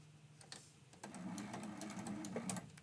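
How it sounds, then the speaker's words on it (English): A sewing machine sews right off the edge of a quilted mug rug with a soft, steady hum that begins after a second of near quiet and runs to the end. "I'm going to sew right off the edge"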